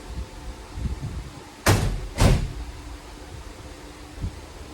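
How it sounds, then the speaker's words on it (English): A door slams twice in quick succession, two sharp loud bangs close by, with quieter room noise and a faint thump afterward; no talking. "Slam the door for me"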